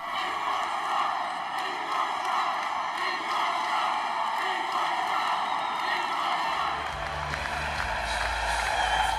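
Arena crowd at the Republican convention booing and chanting in a steady, dense roar that fills the space, with a low rumble swelling toward the end.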